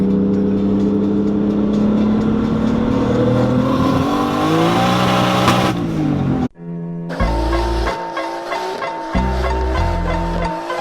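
A Nissan 240SX revs hard through a gear pull, its engine note climbing steadily and loud up close, then cutting sharply at a shift before surging again in choppy bursts.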